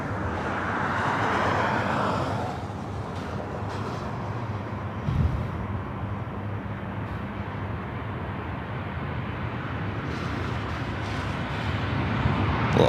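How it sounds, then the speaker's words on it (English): An Alaska Airlines Boeing 737 on short final for runway 24 right at LAX gives a steady, fairly distant jet roar mixed with low traffic rumble, holding an even level throughout with slight swells. "up next is at Alaska 737. Short final for 24 right."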